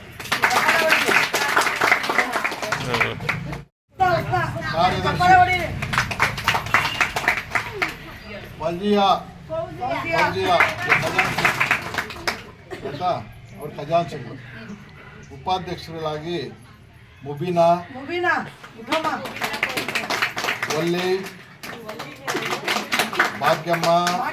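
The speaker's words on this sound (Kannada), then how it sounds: "ಚಪ್ಪಾಳೆ ಹೊಡೀರಿ" Bursts of audience clapping break out at a women's association meeting electing office-bearers, loud near the start and again toward the end, with a person talking between and over the rounds of applause.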